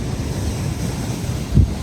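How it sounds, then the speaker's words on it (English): Ocean surf at Poipu Beach, Kauai, washes in a steady roar at sunrise with wind buffeting the microphone, and a brief low thump near the end. "Some waves coming in."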